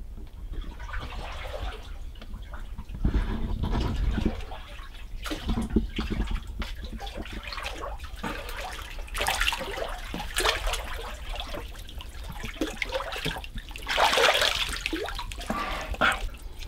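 Gentle water sloshing and dripping in a dark geothermal cave pool at Myvatn, Iceland, as people swim, with soft splashes and trickles echoing faintly at low level throughout.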